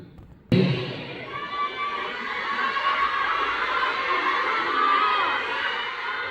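A crowd at a birthday party erupts into loud cheering and shouting after a brief quiet moment, the excited voices holding steady and dense throughout.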